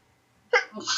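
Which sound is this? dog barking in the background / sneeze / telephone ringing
sneeze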